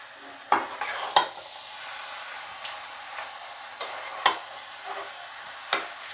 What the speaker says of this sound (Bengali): তারপরে মাছের মাথাটা এইভাবে দিয়ে ভাজা ভাজা, এবার একটু ভাজা করতে হবে।